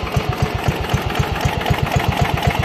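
A John Deere engine idles in neutral, close and loud, its rapid, even chugging pulses repeating steadily with no talking.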